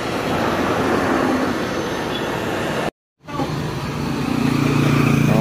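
Honda Click 150 scooter engine idling to warm up after an overhaul, a steady, loud mechanical hum that cuts out briefly in the middle and then resumes slightly louder.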